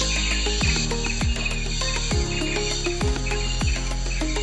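Tonggeret cicadas in the mountain forest of Mount Pandan, Bojonegoro, East Java, fill the air with a loud, steady shrill drone. Repeated falling sweeps pulse beneath it, and no one speaks.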